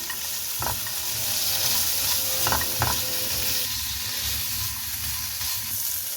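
Steady sizzling of chicken filling with yogurt frying in a hot pan, with a few faint clinks of a utensil stirring; no voices.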